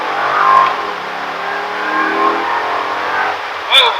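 A 2008 Pontiac G8 GT accelerates hard with the pedal floored, its engine note rising and sustained from inside the cabin, with a brief higher whine near the end.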